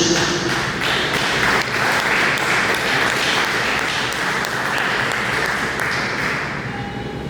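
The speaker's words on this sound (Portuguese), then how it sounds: "Dê uma salva de palmas bem alegre para Jesus." Congregation in a church gives a sustained burst of applause for Jesus, dense steady clapping at a constant level throughout, fading slightly at the very end.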